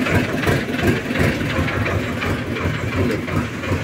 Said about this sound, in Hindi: देख रहे हो इतने छोटी सी जगह में ट्रैक्टर घुसा देते